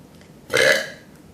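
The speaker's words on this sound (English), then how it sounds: "I'm about to burp." A single loud, drawn-out burp of about half a second, rising abruptly out of near silence and fading away, heard alone with no talk.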